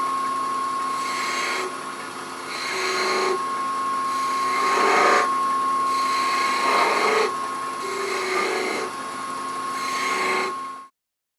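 A wood lathe spins while a tool makes slight V-cuts in a small turned miniature Christmas tree, giving a steady whining hum with repeated bursts of scraping that rise and fall in roughly one-second cycles, close and fairly loud, with no talking.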